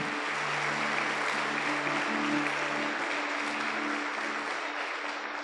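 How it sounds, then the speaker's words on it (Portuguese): Steady applause from a church congregation, dense and continuous throughout, with faint voices and a low hum beneath the clapping. "Vamos dar um aplauso ao Senhor"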